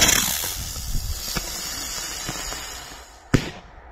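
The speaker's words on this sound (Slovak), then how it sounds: "A ideme na Flying Banger." Flying Banger firework at a New Year's Eve display, giving faint fizzing crackles and a few small pops before one sharp, loud bang near the end, set against a quiet outdoor background.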